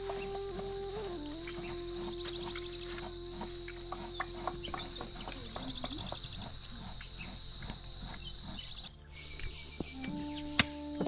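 A broiler chicken clucks in short, soft bursts against a quiet outdoor background with crickets and other birds, fairly faint and spread through the clip.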